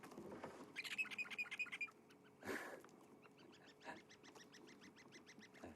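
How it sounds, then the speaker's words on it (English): A whole group of red-billed buffalo weavers tweets overhead at Djuma in the Kruger National Park, South Africa, a quiet run of bright repeated chirps early on, with scattered calls later and a faint steady hum beneath. "That tweeting you can hear above us is a whole group of red-billed buffalo weavers"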